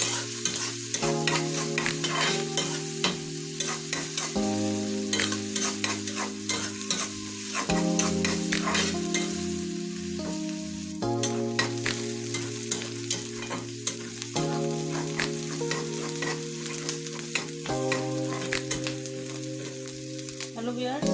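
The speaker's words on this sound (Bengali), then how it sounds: "মশমশ করে ভেজে নিতেছি।" Onions fry crisply in hot oil for a taki fish bharta, a continuous close sizzle with rhythmic scraping of a spatula stirring the pan, heard alongside a repeating musical backing.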